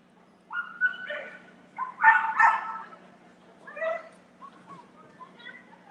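Young, inexperienced dogs barking and yipping in short bursts at a field training event, medium distance, over a faint steady low hum.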